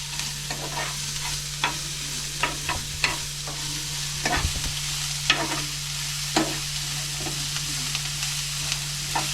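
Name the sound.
stirring onions frying in coconut oil in a pan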